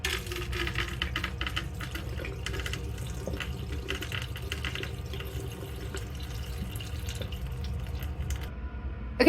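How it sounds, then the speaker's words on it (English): Water drains in scattered drips and small splashes from soaked seeds being sprouted as chicken treats. Faint, irregular tapping and trickling continues for several seconds at close range, with no speech. "Okay, so we got most of the water drained."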